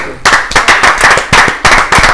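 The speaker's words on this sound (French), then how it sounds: "On peut applaudir pour lui." Applause in a TV studio for the president, loud and close, made of a few people clapping in sharp, rhythmic bursts separated by brief pauses.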